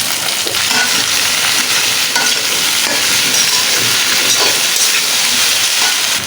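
Okra frying in hot oil with browned onions and green chilies in a pan, a steady loud sizzle that fills the whole stretch, with occasional stirring scrapes and no talk.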